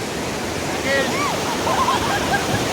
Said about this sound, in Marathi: हरदूरचा डॅम आहे आणि हे मागचं वॉटरफॉल आहे